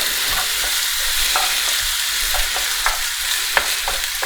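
An omelette mixture being stirred and scraped in a bowl with a large spoon: steady close scraping and whisking swirls, with a sharper clink near the end and no talking.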